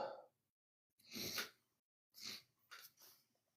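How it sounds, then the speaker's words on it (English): A person's sneeze with nasal allergies, a sharp burst, then two shorter bursts of sneezing and breathy exhalation, close and fairly faint, no talking. "I think I'm going to sneeze again."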